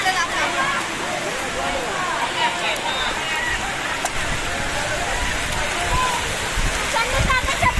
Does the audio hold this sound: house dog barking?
no